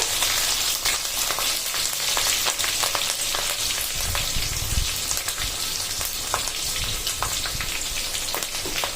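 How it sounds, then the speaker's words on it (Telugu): Onions frying in oil in a pan, the base for a hilsa fish pulusu curry, give a steady, close, loud crackling sizzle that fills the whole stretch, with scattered pops and some heavier bubbling in the middle. "ఉల్లిపాయలు బాగా వేగిన తర్వాత"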